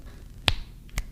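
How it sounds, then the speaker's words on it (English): Two sharp finger snaps about half a second apart, close and fairly loud over a quiet room hum, with no talking. "You snap your fingers or do that."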